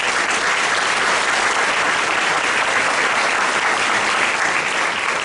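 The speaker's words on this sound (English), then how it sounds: "So another round of applause for our wonderful pastor." A loud, dense round of applause for a pastor at a congressional immigration town hall meeting, the crowd clapping continuously and evenly from start to finish.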